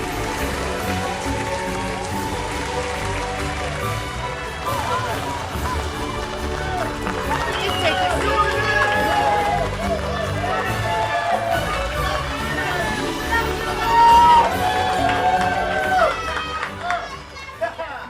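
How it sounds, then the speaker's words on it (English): Studio audience applause greeting a guest on a talk show, a loud sustained wash of clapping mixed with crowd cheering and chatter, with music beneath it, swelling near the end. "that was one hell of an applause"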